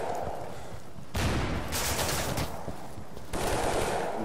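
Gunfire in the video game Insurgency, with rapid bursts of automatic shots and heavy blasts that surge in loudness in waves, dense and fairly close.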